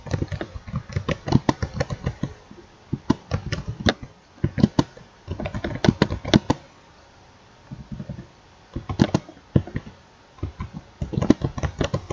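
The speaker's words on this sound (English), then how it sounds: "So like here I will type one question." Bursts of computer-keyboard keystrokes as a quiz question is typed into an online test maker, close and fairly soft, arriving in irregular runs with short pauses between them and no talking.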